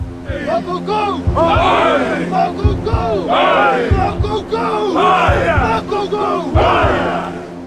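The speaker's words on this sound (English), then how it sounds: "The Hawaiians are doing what we'd recognize as some kind of haka." Hawaiian warriors chant and bellow a haka-style war cry in rhythmic shouted bursts, loud and close, with a massed crowd of voices and heavy stamping thumps underneath.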